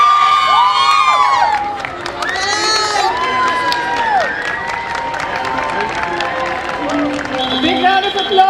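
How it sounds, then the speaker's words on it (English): Crowd at a school sports day cheering and clapping for Lancelot House, loud and close, with excited shouts and whoops from children over steady applause. "Big round of applause to Lancelot House, who've been giving a tough fight to Tristan"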